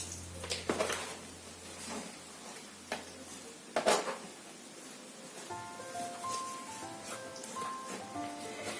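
Potting soil being stirred and mixed with fertilizer in a large pot, giving scraping, rustling and clattering sounds that carry on steadily, with a couple of sharper knocks, at close range and with no talk.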